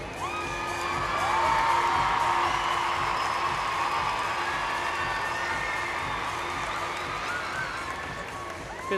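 At a gymnastics World Challenge Cup in Paris, a large arena crowd cheers and applauds loudly and without pause, with whoops and shouts rising over the sustained roar.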